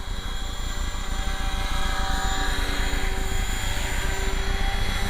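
An RC helicopter fitted with a Scorpion-style motor runs continuously, a loud steady whine and rotor drone with no pauses.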